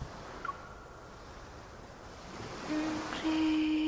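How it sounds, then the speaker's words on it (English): Ocean surf in the Love & Deepspace video game, a soft continuous wash of waves and wind under gloomy weather, rising louder toward the end as a steady tone and a few chimes join in. "The gloomy weather, the sound of the ocean, a salty humidity slowly creeps into my hair"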